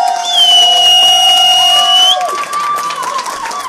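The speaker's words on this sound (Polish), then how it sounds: "Ogromne brawa dla niego" A crowd in a Poznań club cheers, whoops and claps for Sebastian at his birthday drag show, loud shrill cheering and high whistles over the clapping, close and sustained throughout.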